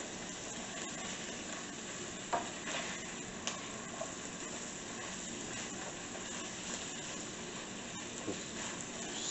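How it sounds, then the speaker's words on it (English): Carrots and onions cooking in a pan on a stovetop give a soft, steady sizzle, broken by a few light clicks of stirring. "Just stir it a little bit here and there"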